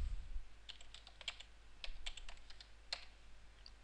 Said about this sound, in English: I'm going to type it in here.